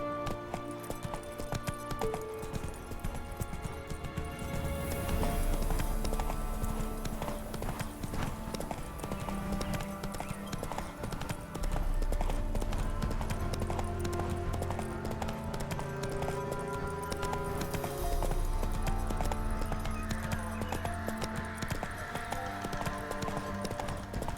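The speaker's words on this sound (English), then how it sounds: "Run, Roach." Galloping horse in The Witcher 3, rapid steady hoofbeats clip-clopping continuously over about twenty-four seconds with game ambience and music underneath, loud and close.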